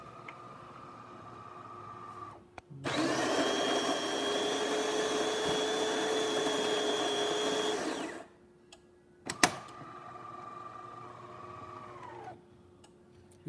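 A DeLonghi espresso machine, just serviced and descaled, runs a loud steady motorized grind-and-pump cycle for about five seconds with a sustained whine, framed by a quieter background hum, a clunk and brief clatters.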